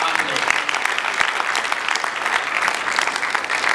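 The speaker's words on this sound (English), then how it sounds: "I request the audience to give them a very hearty round of applause" An audience at a dinner at Hotel Africana bursts into a loud, dense round of applause that holds steady throughout, with many hands clapping together close by.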